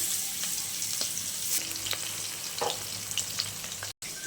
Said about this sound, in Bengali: আমি ভেজে নিচ্ছি মাছটা